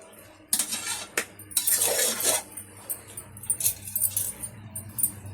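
Chicken is stirred in oil in a pan with field beans, with close, irregular metallic scrapes and clanks of a spoon against the pan and a soft sizzle between strokes.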